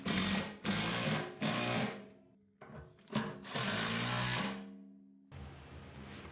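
A power driver runs Allen head screws through a mounting plate into the frame of a 1967 C10 during an LS1 engine swap, in several loud whirring bursts separated by short pauses.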